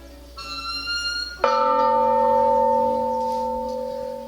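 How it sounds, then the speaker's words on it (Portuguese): A single church bell strike rings out after a faint tone, leaving a rich, lingering resonance that decays gradually. "Cada sino tem aí uma nota musical."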